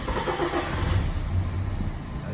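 A BMW X1 with a fault that makes it cut off, its engine turning over with a low rumbling crank and a brief rough catch, then settling to a fainter idle.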